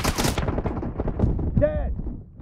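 Video game gunfire crackles in fast, rattling bursts, loudest at the start and then thinning out, mixed with shouted in-game voice callouts.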